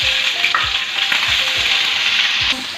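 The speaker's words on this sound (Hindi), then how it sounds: "ये हमने ऑयल डाल दिया है। अब इसमें हम अदरक और लहसुन का पेस्ट डालेंगे।" Ginger garlic paste sizzles and spits in hot oil, loud and close, with a utensil stirring and scraping in a regular rhythm.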